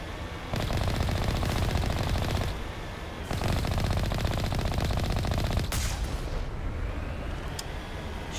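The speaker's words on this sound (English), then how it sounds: "Shoot its shields and blow it up with the big guns" Heavy automatic gunfire from big guns in the Mass Effect video game, long sustained loud bursts broken by short pauses, with a sharp blast near the end.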